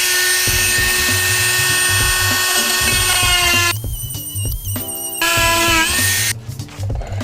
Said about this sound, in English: Using a Dremel for this seems a little excessive, but it was the only thing I had